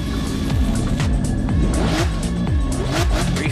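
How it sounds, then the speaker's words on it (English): Race car engine sound effects for Hot Wheels diecast racing between a 2020 Toyota GR Supra and a Corvette C8.R: loud revving engines with rapid gear-change sweeps and a brief tire squeal, close and continuous. "they're revving their engines"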